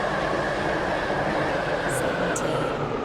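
A three-coach train on the Waterline in the Roblox game Stepford County Railway, giving a steady, loud, continuous rumble with two brief high squeals near the end.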